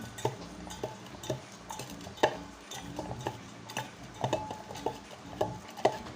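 Chopped coriander, ginger and green pepper stirred and roasted with spices in a pan in a Kerala home kitchen, with steady scraping and frequent light clinks and ticks of the utensil against the pan over a soft sizzle.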